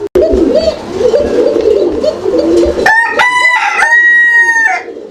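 A rooster crows loud and close, with a ringing, harmonic call after a stretch of pigeon cooing and other fowl noise at a poultry market.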